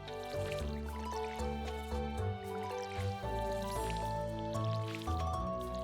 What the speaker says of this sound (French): Allez, on arrose.